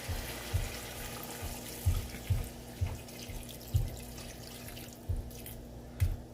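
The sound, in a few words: water being poured into a pot of beef stew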